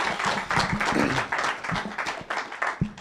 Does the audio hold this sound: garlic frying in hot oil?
no